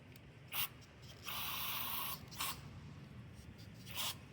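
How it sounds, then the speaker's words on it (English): Cleaner hisses from a spray can into the main jet of a 400cc drag bike's motorcycle carburetor: a few short sprays then one sustained burst of about a second, close and moderately loud, with small clicks between. "Turning this needle out. It's our main jet. That way I can spray in there."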